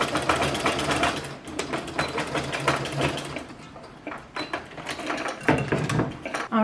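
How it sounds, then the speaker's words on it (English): A sewing machine stitches pajamas in bursts of fast, close, mechanical whirring with short pauses between seams, running loud and steady with no voices. "So I'm gonna start sewing this one up"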